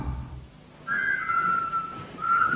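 A song of defiance whistled by marching prisoners in a 1993 New Zealand TV commercial: a clear, sustained melodic whistle entering after a quiet opening and continuing steadily, with a brief pause before rising again.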